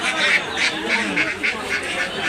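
Ducks of several kinds, including Chinese, local and Radha ducks, quack repeatedly at a busy duck market, a steady chorus of short bursts close by amid crowd noise.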